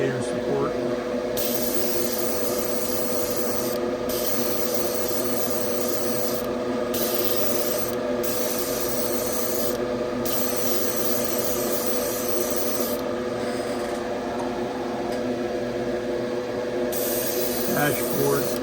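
Spray painting parts of a 1970 Chevelle, with a continuous hissing spray gun sounding in repeated bursts separated by short pauses, fairly close and steady throughout.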